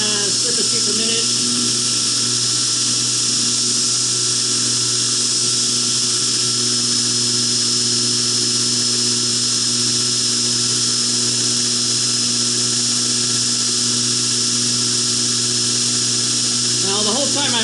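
A powered grinder steadily grinds a Heretic H2 knife blade at about 5,000 surface feet per minute, giving a loud, continuous, even whine that holds unbroken from start to finish.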